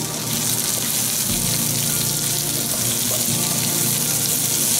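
Shallots and cherry tomatoes sizzle in a hot pan, giving a loud, steady, close-up hiss that holds evenly throughout with no talking.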